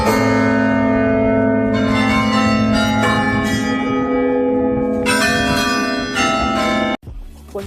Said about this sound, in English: I was lucky enough to be there when the bells rang.